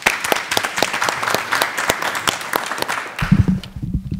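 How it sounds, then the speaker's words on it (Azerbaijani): A studio audience at a saz music show applauds with brisk, rhythmic clapping for about three seconds. Then it cuts off abruptly, and a voice begins speaking. "Alqışlayaq."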